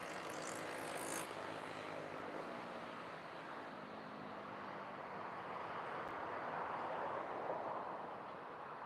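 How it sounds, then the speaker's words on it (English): A DHL Boeing 757 passes overhead at East Midlands Airport as a faint, distant broadband jet roar that holds steady with a slow swell and no talking. "Where did that come from? The DHL 757 snuck in."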